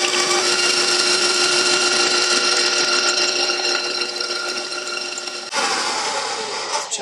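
An electric beater whips a mixture toward stiff peaks, giving a steady, loud mechanical whir that holds its pitch, then shifts tone near the end as the motor changes speed.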